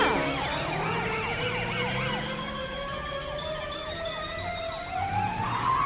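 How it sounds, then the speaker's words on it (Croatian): A police car siren wails steadily through a scene from an animated kids' chase, its sweeping tone loud and close with other sirens and vehicle noise layered beneath, and no talking. "Matilda i Carl danas vježbaju policijske potjere."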